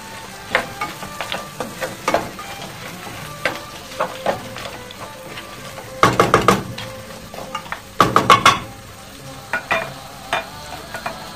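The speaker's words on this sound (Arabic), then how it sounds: "نخلي شويه تقلى ونعاود نشوفكم" Vegetables, including peas, frying in a pot for a meatless Tlemcen tbikha stew: soft sizzling runs under repeated stirring scrapes and knocks, with two louder bursts of sizzle and clatter midway.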